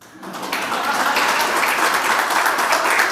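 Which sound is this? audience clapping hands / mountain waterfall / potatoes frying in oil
audience clapping hands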